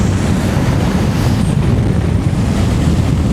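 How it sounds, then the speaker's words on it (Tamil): Strong wind buffeting the microphone on a flat, open stretch of road near a lake and train tracks in Australia, a loud, steady roar with no talking. "அப்பா செம காற்று."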